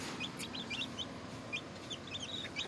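A hen clucks among newly hatched chicks, with repeated high, sharp chick peeps scattered throughout over soft low clucking, close and fairly quiet with no voices.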